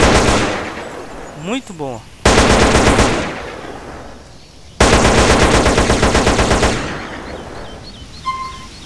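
Bursts of automatic M4 rifle fire in GTA San Andreas with an HD weapon pack, two long rapid loud volleys separated by pauses, with a brief spoken comment between them.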